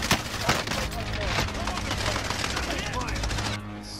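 Rapid automatic gunfire in a shooter video game, dense bursts of sharp cracks rattling almost continuously for several seconds.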